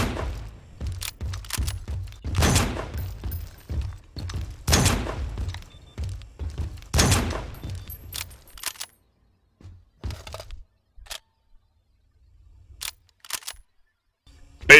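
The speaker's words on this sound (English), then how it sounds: "Sniper rifle B." Sniper rifle B fires repeatedly in the video game BRINK. Sharp cracking shots come every couple of seconds with echoing tails, then thin out into sparser, quieter clicks and handling noises.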